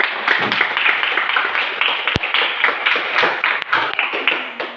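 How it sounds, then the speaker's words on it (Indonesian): A classroom group claps together for a few seconds, a dense, lively patter of many hands close by. "Kita tepuk tangan dulu untuk kelompok 1."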